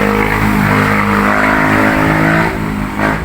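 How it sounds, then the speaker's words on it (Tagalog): Motorcycles with loud modified exhausts passing by on a street, a heavy close engine roar with rumbling harmonics that holds loud then briefly dips and swells again near the end. "Ilang nakakahinis pag dito ka nag-vlog, maraming mga bombet na motor"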